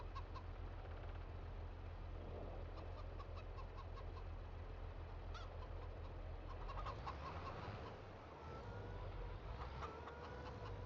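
Hens in the video game Farming Simulator 22 cluck continuously in a busy, noisy flock, with scattered sharper calls over a steady background hum.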